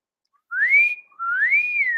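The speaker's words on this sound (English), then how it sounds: "Oh, that's a good whistle." People whistle together in two long rising-then-steady notes, clear and fairly loud, with a short gap between them and no talking.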